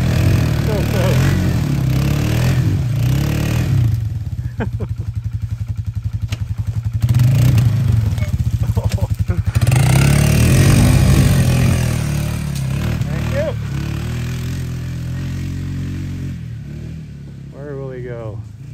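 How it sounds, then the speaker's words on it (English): Dirt bike engine revving and idling while riding off-road through trees, a loud, close motor with rattling clatter that rises and falls, with people talking over it. "Especially on a dirt bike, you can kind of rip through everything."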